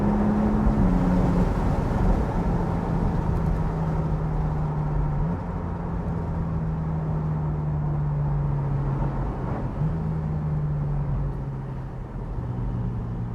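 A Porsche 718 Spyder sports car drives along a road through Wales, its engine a steady, continuous drone that holds for the whole stretch with a slowly sliding pitch and no talking over it.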